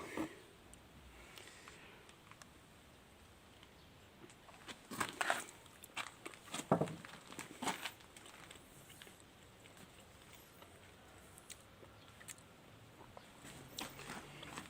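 Someone bites into and chews a freshly made dish at a tasting, with soft crunchy chewing bursts scattered through a quiet background, loudest in the middle.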